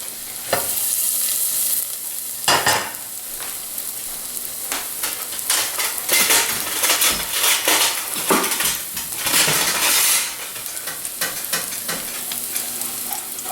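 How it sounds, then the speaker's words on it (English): Garlic cooks in olive oil in a pan, giving a steady close sizzle and crackle. Stirring clatters and scrapes across the pan now and then, with sharper bursts spaced irregularly and no voices. "I'm going to put my garlic right in, just like that, all at once. Let the garlic cook a little bit."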